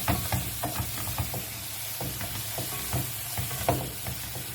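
Veal pieces, freshly flipped in a pan with sliced garlic, rosemary and peppercorns, fry with a steady close sizzle, broken by a few soft scraping stirs and light clinks.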